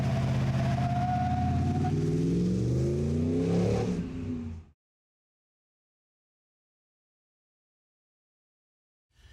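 A Ford 5-liter V8 with a newly installed dual exhaust revs up to a rising roar for about four seconds. It sounds close and strong, then cuts off into silence.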